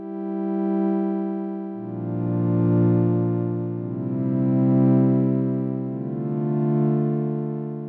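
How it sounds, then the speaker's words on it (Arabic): Sustained synthesizer pad with a long release: smooth, harmonically rich chords held and shifting to new chords every couple of seconds, swelling gently with no speech. "بكل بساطه هو ده صوت الباد، تمام."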